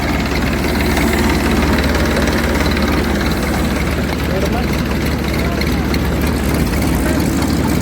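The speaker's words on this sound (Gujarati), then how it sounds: "ફાઇનલી ટ્રેક્ટર ચાલુ થઈ ગયું છે" A tractor's heavy diesel engine idles with a steady low rumble throughout, loud and close, with faint voices mixed underneath.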